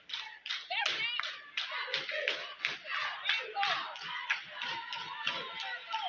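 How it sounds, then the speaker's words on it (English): Cheerleaders at a high school boys' basketball game, Greenwood versus Holmes County, chant and clap in unison, a rhythmic string of sharp claps and shouted syllables in a gym, fairly close and moderately loud. "The cheerleaders cheering at the same time."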